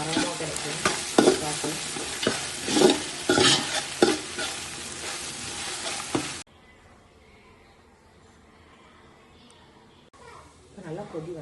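Coriander and mint leaves fry and are stirred in hot oil for kurma, a loud crackling sizzle with scraping stir strokes for about six seconds, then a sudden drop to near quiet before the sizzle returns faintly at the end.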